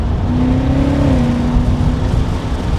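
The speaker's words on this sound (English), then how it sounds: "let's go ahead and downshift, 6th gear, 5th gear, 4th gear, 3rd gear" A 2020 BMW M8 engine heard from the cabin during paddle-shift downshifts, a loud continuous drone whose pitch climbs and then steps down, under heavy road and wind noise.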